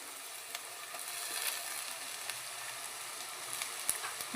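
Chopped tomatoes frying in a pan while puri bhaji is being made, giving a steady close sizzle and crackle with a few small pops and no talking.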